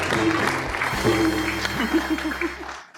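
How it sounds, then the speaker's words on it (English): A round of applause from a small group on a show set, quick clapping mixed with a low musical sting and tones, fairly close and bright throughout. "big round of applause for Mitch"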